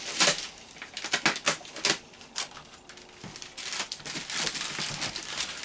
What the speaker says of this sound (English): Just trying to be careful where I cut, make sure it's only sellotape that I'm cutting here.